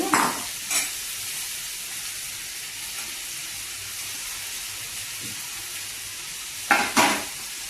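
Chopped bottle gourd with garlic, onions and green and dried chillies sizzles in hot oil, a steady frying hiss broken by a few louder bursts as pieces are stirred and dropped in.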